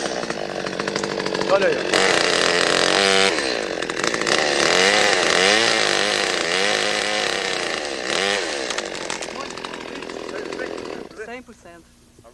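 A chainsaw cuts through branches while pruning a tree, loud and close with the engine pitch rising and falling as it bites, fading out at the end with brief speech.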